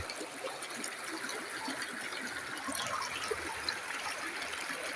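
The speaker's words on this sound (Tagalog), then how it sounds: "dito yung bukal na tubig" Steady, soft trickling of water from a natural spring flowing over rocks, continuous and gentle with no voices.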